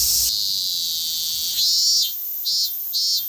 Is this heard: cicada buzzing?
yes